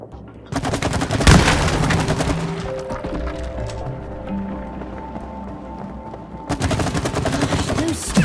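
Match gun fire in the game It Takes Two sets off sap explosions, a loud close barrage of rapid crackling blasts that breaks for a few seconds of lower rumbling tones, then bursts out again at the end.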